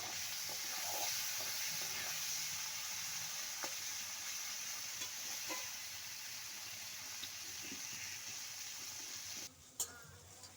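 Prawns fry in oil for a pumpkin and stem vegetable curry, a faint, steady sizzle and hiss heard close by, with a few light stirring taps and a clatter near the end.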